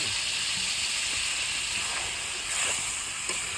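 Water poured into a hot cooking pan in a Bengali village kitchen produces a steady, loud, broadband hiss that continues throughout, with faint clinks and rustles underneath.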